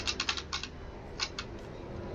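Quick bursts of keyboard typing, a cluster of clicks, a short pause, then a few more keystrokes, close and moderately loud.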